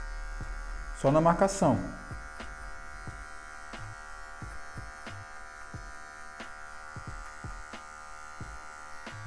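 An electric hair clipper with a low guard buzzes briefly through afro hair during a medium fade, a short loud burst early on, then a faint hum and light ticks under quiet talk in Portuguese.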